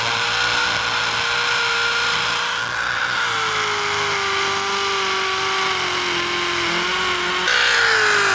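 A power drill whines steadily as it bores holes for foundation anchors. The motor pitch sags slowly and then jumps back up near the end, with no talking.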